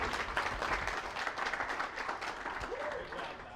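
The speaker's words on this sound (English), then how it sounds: "Can we get an applause for his bridge here?" Audience applause for a student's popsicle stick bridge at a drafting class bridge competition, a steady room of clapping that runs the whole time with light voices mixed in.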